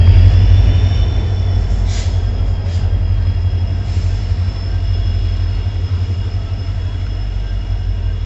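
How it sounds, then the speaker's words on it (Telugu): Kazipet–Dadar special express train pulling into a station, a steady loud low rumble of rolling coaches with faint wheel squeals and brief hisses, continuous and close. "మనకి ఇది మొట్టమొదటి train Kazipet to Dadar express"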